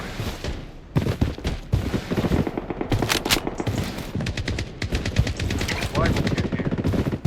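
Bursts of RPK machine gun fire in Blood Strike, loud and close, in rapid sustained volleys with short pauses, while a voice talks underneath.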